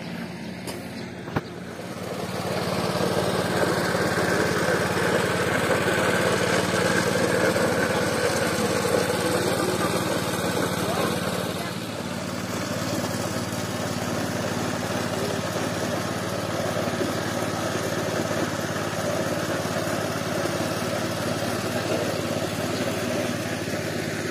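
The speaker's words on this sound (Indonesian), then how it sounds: "Itu masih terdengar suara mesin untuk memecahkan kopi" A coffee hulling machine drones steadily throughout, a loud rough rattling hum that changes slightly midway and keeps running without pause.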